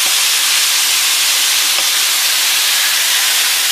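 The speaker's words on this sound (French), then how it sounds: "on laisse la viande cuire. Il faut la dorer uniformément" Minced meat for hachis parmentier browning in a pan, giving a steady, loud broadband sizzle with a hissing, steam-like texture throughout, without pauses or talk.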